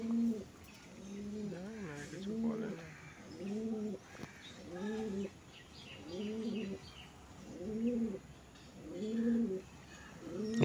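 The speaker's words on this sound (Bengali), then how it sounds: "এই হচ্ছিলো পায়রা রাইস, একদম সাদা পট্টির পায়রা" White-marked pigeons coo in a faint, repeated rhythm of soft, rounded calls about every one to two seconds, with quiet background noise between them.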